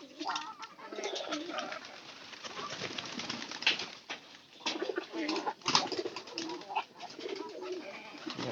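Pigeons at a backyard poultry coop coo repeatedly in soft, low, rolling phrases, fairly close, with some rustling and faint flutters between the calls.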